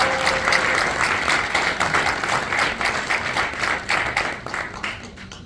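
An audience at a Haitian American military association event claps for soldiers, steady dense applause filling the room throughout before tapering slightly at the end.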